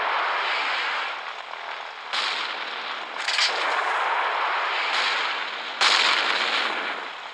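A bomb going off in the naval combat game Gunship Battle, a sustained, rushing roar of blasts rolling one into another, with a few sharper surges cutting in along the way.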